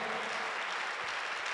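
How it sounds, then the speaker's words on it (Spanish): A church congregation claps steadily in a dense burst of applause, loud and continuous from start to finish. "¿Por qué no le aplaude al Señor?"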